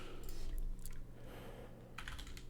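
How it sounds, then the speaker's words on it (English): Computer keyboard typing in a quiet room, a few quick bursts of keystrokes with pauses between them, close and moderately soft over a low steady hum. "Okay, I'll type it out."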